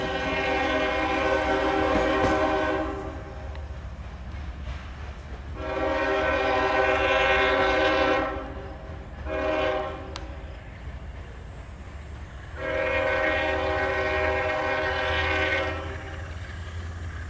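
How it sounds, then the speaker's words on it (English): An eastbound CSX freight train rumbles past, sounding three long, loud horn blasts separated by short gaps over a steady rolling drone. "there's a lot of power on that eastbound train there."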